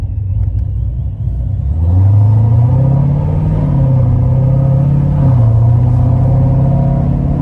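Loud, deep engine rumble from a 2016 Procharged Corvette Z51 3LT making around 850 hp while driving, the pitch climbing and dipping as it accelerates and eases off, continuous and close with no voices.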